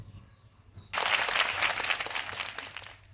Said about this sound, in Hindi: तो आप लोग जरा जोरदार तालियों से उनका स्वागत कीजिए